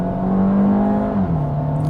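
A Peugeot 408 with a 1.6 litre engine pulls hard under acceleration, a steady rising engine drone with a slight dip and shift in pitch midway, heard from inside the car.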